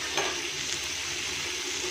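Pointed gourd frying in a pan and stirred with a utensil, a steady close sizzle with a brief scraping stir near the start, no talk.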